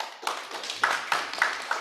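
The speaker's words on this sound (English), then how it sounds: "Let's applaud them." Sparse clapping from a small forum audience welcoming online speakers, a handful of distinct claps at irregular intervals rather than a full ovation, fairly close and clear.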